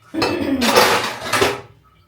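Steel dishes, pots and pans clatter and scrape during washing at a home kitchen sink, two loud close bursts of ringing metal and cutlery within a couple of seconds, with no voices.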